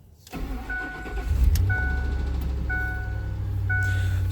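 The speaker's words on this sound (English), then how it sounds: "So as the engine starts" Engine of a 2008 Ford F-150 XLT with a 4.6-liter V8 cranking and catching, then settling into a steady idle, close and loud, with repeating chime tones above it.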